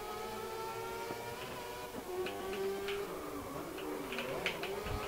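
Race cars driving in the Grid 2019 video game, with steady, fairly quiet engine whine and shifting pitched tones as the cars run, plus a few faint ticks and knocks over the top.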